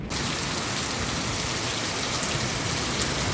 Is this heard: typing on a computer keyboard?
no